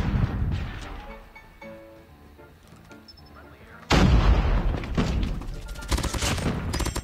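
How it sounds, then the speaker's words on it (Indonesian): Airstrike explosions in a Call of Duty match: after quieter gunfire and game sounds, a sudden loud burst of booming blasts and rumbling impacts erupts midway and keeps pounding in heavy waves. "Ya kabur pada cabut, ada airstrike mah bro"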